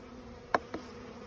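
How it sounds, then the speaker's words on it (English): Honey bees at a hive entrance during spring dewintering: two brief, close buzzes a fraction of a second apart over a quiet background. "this kind of just opens up the entrance so we can get more bees coming and going"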